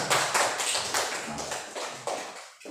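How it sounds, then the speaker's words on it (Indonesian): Schoolchildren in a classroom clap their hands together in a quick, steady rhythm of about eight claps, fairly close and moderately loud, ending abruptly. "Ya, tepuk tangan."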